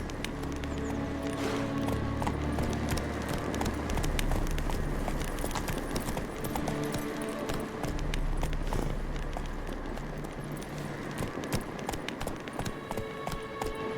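Horse hooves pounding at a steady gallop in The Witcher 3 Complete Edition next-gen update, a continuous rhythmic clatter of clip-clop beats throughout, loud and close with a faint neigh.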